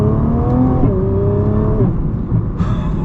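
A 2021 Nissan GT-R Premium accelerates hard, its engine whine climbing in pitch and dropping sharply on quick gear shifts, loud from inside the car.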